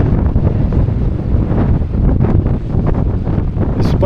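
Strong wind buffets the microphone at a seaside bay in Malta, a loud continuous low roar with gusty fluctuations throughout, any surf or water sounds masked beneath it.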